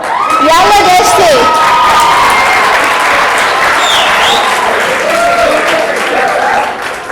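A crowd applauds and cheers loudly for Deshti in a dense, continuous roar of clapping, with whoops and shouting voices mixed in across the whole stretch.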